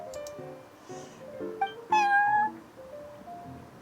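A cat meows once, clear and upward-bending, in the Cat's Tail tavern of Genshin Impact, set against soft, sparse game music with a few quieter tones around it.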